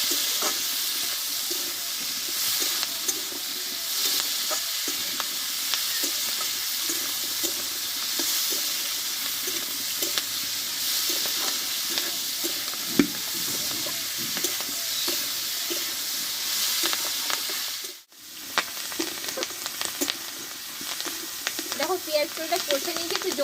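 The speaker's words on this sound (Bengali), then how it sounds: "পেঁয়াজ আমি এবার ভালোভাবে একটু কষে নেবো" Onions and slit green chillies are sautéed in a pan, producing a loud, continuous hiss and sizzle with steady stirring scrapes and a brief break near the end, with no voices.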